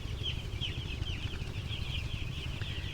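Seven-day-old broiler chicks in a poultry shed, a dense, continuous chorus of high peeping and cheeping at moderate distance, with a low hum of ventilation beneath and no talk.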